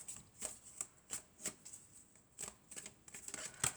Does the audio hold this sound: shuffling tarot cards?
yes